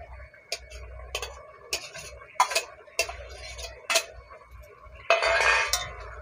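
Jute leaves stirred into a brinjal and prawn curry in a pan, heard as a series of sharp utensil clinks and scrapes against the pan at a steady, spaced rhythm, close and fairly quiet, with a brief louder sizzle near the end.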